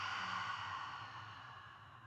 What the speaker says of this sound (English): take a nice deep breath in and open mouth exhale